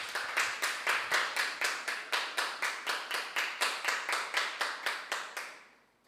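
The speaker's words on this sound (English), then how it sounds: "And some very strong clapping there." An audience claps after a school debate, forming a rhythmic, evenly spaced run of crisp claps, roughly four per second. It carries on steadily for about five seconds, then fades out, with no speech over it.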